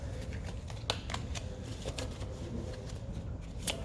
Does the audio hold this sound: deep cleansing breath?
no